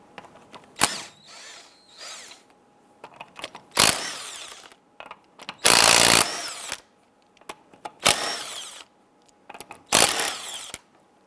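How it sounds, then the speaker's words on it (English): A power tool with a 19mm socket loosens lug nuts on the front wheel of a 1995-2001 Ford Explorer, whirring in several loud bursts of about half a second to a second, separated by quiet gaps. "Using our 19mm socket, we're going to loosen and remove the lug nuts."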